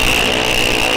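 Bracket drag racing cars at a raceway roar loud and close as they launch, a brief sustained engine blare with a high whine on top.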